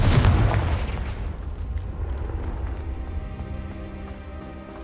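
A Confringo fire spell detonating in the game Hogwarts Legacy: a loud, booming blast at the start whose heavy low rumble decays slowly over several seconds, with no talking.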